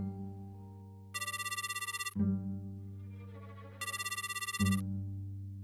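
Two separate bursts of an electronic phone call ringback tone, each trilling for about a second, sound over a steady low hum with a short pause between them.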